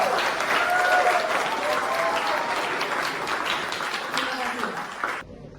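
Sustained applause from a school crowd at a grade 9 arts performance, steady clapping with some voices mixed in, fading slightly before cutting off near the end.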